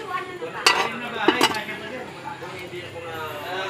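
Metal cooking pot clanks twice as freshly dug cassava is set on the stove, two sharp clinks over a low kitchen background, with faint clattering afterward.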